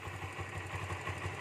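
Cold Barako motorcycle engine idling just after starting, a steady, fairly loud rhythmic low thumping with a faint mechanical clatter, alone with no talking.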